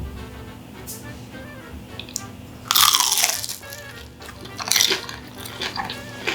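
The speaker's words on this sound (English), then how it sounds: "the last thing I'm going to try is these veggie rolls, and they come with a sweet and sour sauce" Crispy vegan veggie rolls served with sweet and sour sauce at a restaurant in Belgrade, bitten into with two loud crunches a couple of seconds apart over a quiet, busy room background.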